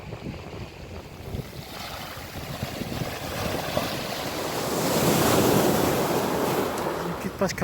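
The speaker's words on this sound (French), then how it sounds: "on a une petite plage cachée ici, une très belle petite plage" Surf rolls steadily onto a small secluded beach, broad and continuous, swelling louder toward the end, with wind buffeting the microphone throughout.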